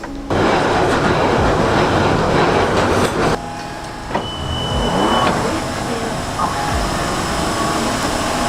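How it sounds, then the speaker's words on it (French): A London Underground metro train runs loudly and close, with a constant rumbling roar, rail rattle and clacking, and brief high squeals and shifts in tone as it travels; faint voices may sit under the din. "j'avais complètement oublié pourquoi est-ce que je ne prenais plus le métro"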